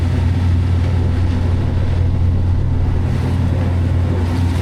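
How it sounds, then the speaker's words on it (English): The engine of a small IP24 fishing boat off Hastings beach, fitted with a new propeller, runs steadily with a loud, even, low drone that never lets up. "The engine sounds sweet."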